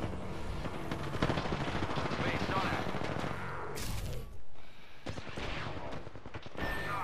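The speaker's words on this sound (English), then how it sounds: "Someone's sitting on top of the building shooting at me." Gunfire in the Apex Legends video game, dense bursts of shots and rattling fire, loud and close, breaking into a sharp burst partway through, with game effects mixed in.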